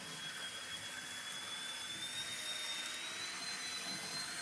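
A vintage Fleischmann HO gauge model train runs at high speed, making a faint, steady high-pitched motor whine. The whine rises slowly and has a soft running hum beneath it, with no talk.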